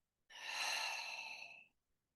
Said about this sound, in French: Par la bouche, on expire.